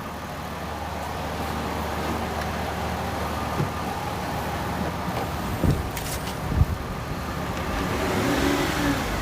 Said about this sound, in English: Rev it.